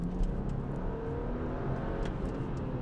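A 2014 BMW M135i with a 3.0 engine revs in a steady, loud, close engine roar lasting a few seconds, with no voices over it.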